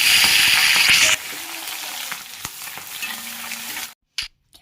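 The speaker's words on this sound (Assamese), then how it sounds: "এয়া পিয়াজখিনি একদম ৰঙচুৱা হোৱালৈকে ভাজিছো" Chopped onions with ginger, garlic, red and green chilies, cinnamon and cardamom fry in a pan for a yogurt goat meat curry. A loud sizzle dominates the first second, then it settles into a steady, softer crackle with occasional stirring before cutting off.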